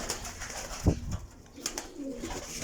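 Pigeons of a breeder's stock make soft, low coos close by, with a single louder thump or flutter early on and quiet ambient noise around.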